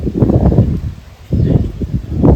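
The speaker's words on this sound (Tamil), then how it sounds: "காற்று கொஞ்சம் அதிகம்தான்" Wind gusting through potted plants and climbing vegetable creepers on a rooftop terrace garden during heavy rain, a loud rustling roar in two surges with a brief lull between them.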